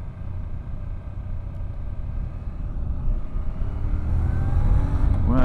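Honda NC700X motorcycle accelerating in first gear, its engine drone steady and close, rising gradually in loudness and pitch toward the end with no talk over it.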